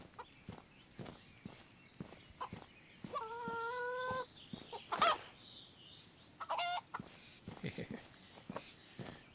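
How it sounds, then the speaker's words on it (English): A chicken clucking in the survival game DayZ, with repeated short clucks and a couple of longer squawks over a steady beat of footsteps; nearby, fairly quiet, with a voice talking now and then. "There's a chicken."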